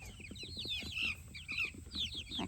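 Chickens in a backyard garden on a summer morning, clucking and chirping busily in a steady, overlapping chatter with sharp high calls, close and moderately loud against faint outdoor background noise.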